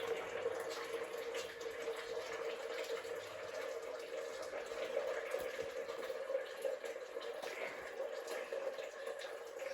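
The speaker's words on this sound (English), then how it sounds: "Pouring hot water." Hot water pours steadily into a jug, a continuous close rushing splash that holds at an even level for several seconds with no talk over it.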